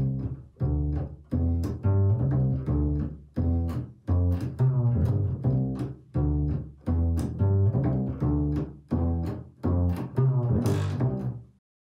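A double bass plays a riff of repeated plucked phrases, each note ringing then cut short, in a steady loping rhythm, close and alone.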